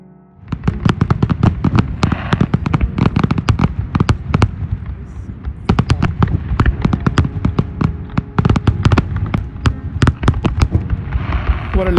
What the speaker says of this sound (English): The entire town gathered around the airport for the firework.